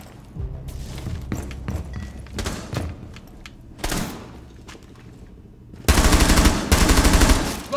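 Gunfire in Rainbow Six Siege on the Consulate map: scattered single shots and thuds early on, then a loud sustained automatic burst near the end, with no talk over it.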